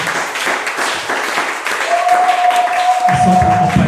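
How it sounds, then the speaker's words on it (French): Church congregation applauding, a dense wash of clapping from a crowd that swells and continues throughout, with a sustained tone and voices underneath. "Est-ce qu'on peut applaudir leur présence?"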